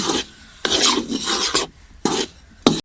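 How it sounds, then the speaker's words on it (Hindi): A spoon scrapes and stirs flour roasting in a pan for sweet laddu, making coarse rasping strokes in several short bursts with brief gaps, close by and with no talk. "और आप इस तरह चम्मच हिलाते रहें ताकि ये नीचे ना लगे।"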